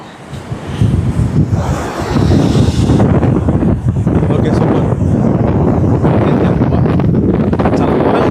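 Strong wind gusts across the seashore at Salmiya, Kuwait, on a cloudy, cold day, roaring steadily and loudly as it buffets the microphone throughout.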